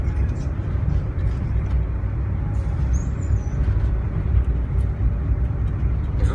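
A highly polluting vehicle rumbles past at close range in steady street traffic, its dense low engine drone continuous and loud throughout with no clear approach or fade.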